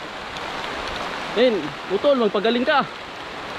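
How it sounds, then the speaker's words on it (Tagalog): Heavy rain pours onto a rice field, a steady broad hiss throughout, while someone speaks briefly over it in the second half. "Pagkalakas na ng ulan."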